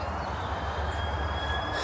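A train passes at a distance beside a fishing peg at the Diggers Complex, a steady low rumble with a faint high wheel whine, continuous and fairly quiet throughout, with no talking.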